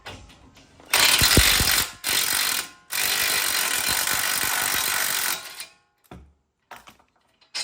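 A rattle gun (impact wrench) loosens the brake caliper bolts on a Nissan Qashqai, giving loud, close, harsh mechanical bursts of one to several seconds separated by short pauses, with no talking.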